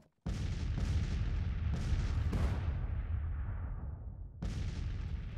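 Civil War cannon artillery fires in the video game Grand Tactician: The Civil War, a rapid volley of loud booms rolling into a long decaying rumble, then another heavy blast near the end.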